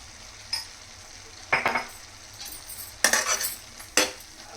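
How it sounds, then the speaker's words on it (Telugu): A spoon scrapes and clinks against a pan while omelette curry with spices sizzles, four short bursts of stirring spaced out over a quiet frying hiss. "మొత్తం మిక్స్ అయ్యే విధంగా ఒకసారి కలుపుకుందాం"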